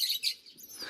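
A young pigeon gives a few quick, high chirps close by, brief and clear over a quiet background with no talking.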